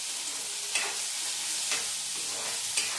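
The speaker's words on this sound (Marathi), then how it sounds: "आणि त्याच्यात आपण जिरं तळतळलंय, कांदा टाकू." Chopped onion sizzles and fries in hot oil with cumin seeds in a pan on the stove, a steady close crackling hiss with a few soft stirring scrapes.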